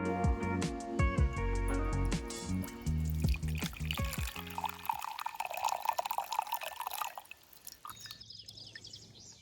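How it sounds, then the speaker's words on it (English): A drink being poured into a glass, a gurgling stream that rises in pitch as it fills, then drips and trickles, close and clear, after a short musical intro. "Now pour yourself a drink."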